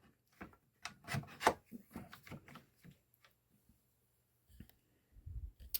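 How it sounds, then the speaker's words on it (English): Clamp fitted onto a plywood piece: a close series of woody rubs, clicks and scrapes over a few seconds, then a short pause and a few more soft knocks. "Now comes that clamp that I was telling you about, which I'm going to put on right here."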